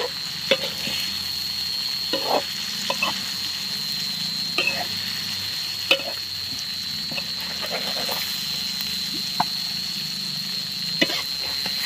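Food being stirred and fried in a pan for a wet-style fried dish ('goreng becek') at a riverside treehouse camp: a steady close sizzle with repeated scraping clacks of the utensil, continuous across the whole stretch.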